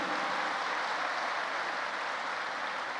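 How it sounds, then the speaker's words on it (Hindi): A dense, continuous burst of audience applause for the organizing committee fills the whole stretch, loud and even with no pauses. "एक बार जोरदार ताली बजाकर इस आयोजन करवाने वाली पूरी कोर कमेटी को"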